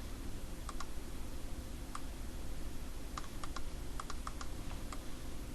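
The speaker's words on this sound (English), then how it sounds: "Press the 1 on the keyboard, save it" Computer keyboard keys click in sparse, irregular taps, a few single presses and then short quick clusters, faint against a steady low room hiss during work in ZBrush.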